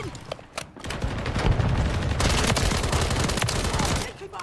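Sustained automatic gunfire in a first-person video game, a few sharp shots first, then a long loud volley of rapid bursts that tails off near the end.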